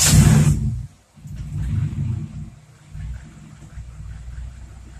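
A Honda B16A2 engine fitted with ITR cams runs at idle with a low, uneven rumble. A sharp, loud burst opens the sound, then it drops briefly and settles into a steady, moderately loud idle with no talking.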